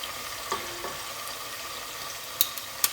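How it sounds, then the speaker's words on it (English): Eggs added to a pan of oil rice cooking with salted beef, giving a steady soft sizzle with a few sharp utensil clicks and taps near the end. "This is where I'll be adding my eggs."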